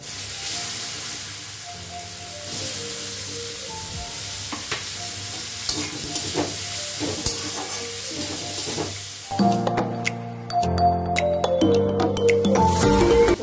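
Chopped onion with garam masala powder and a pinch of sugar sizzles in hot oil in a home kitchen, a steady frying hiss with stirring scrapes and clinks, while background music plays throughout.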